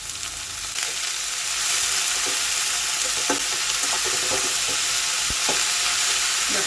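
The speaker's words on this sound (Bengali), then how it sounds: "কুচি করে কাটলে ভাজতে ভাজতে এগুলো একদম গলে যাবে" Finely chopped vegetables and cauliflower stems frying in a pan, a loud continuous sizzle that swells after a moment, with scattered scrapes and knocks of stirring and no talking.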